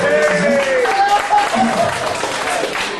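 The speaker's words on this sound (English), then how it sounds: "give him a round of applause" Audience applause fills a comedy stage hypnosis show, a steady broadband wash of clapping throughout, with a voice talking over it.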